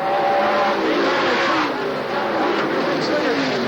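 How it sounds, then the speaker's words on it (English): Race cars at Oswego Speedway battling three wide during a 1994 ISMA Supernationals supermodified event roar steadily and loudly throughout, a dense continuous engine drone with shifting pitch, while a commentator talks over it. "the track champion, going in a 3-car battle with the 22 of Sonier, the 32 of Sewell"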